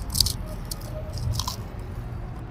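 Close, crisp bites into crunchy potato sticks with sauce, followed by a few moist chewing crunches and squishes, with no talking.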